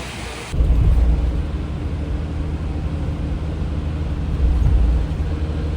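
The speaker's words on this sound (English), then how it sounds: "when the cars and trucks go by, we get a mouthful almost of water" Cars and trucks splash past through heavy rain and wind at an airport. A loud, steady low roar of traffic and downpour swells twice as vehicles go by, with no talk.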